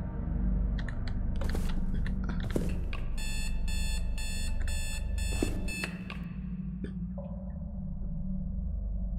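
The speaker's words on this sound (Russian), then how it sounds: "Он 6 раз пикнул." An electronic beeper in the video game Trapped gives a quick series of bright, evenly spaced tones over a steady low background hum, followed by a fainter sustained tone near the end.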